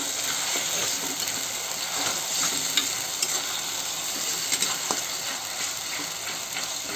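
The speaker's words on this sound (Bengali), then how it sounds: "এই পেস্টটা ভালো করে ফ্রাই করব।" Ginger, garlic and green chili paste fries in a pan for a masala baingan dish, a constant sizzle with scattered spatula stirs and scrapes, close and moderately loud, no voices.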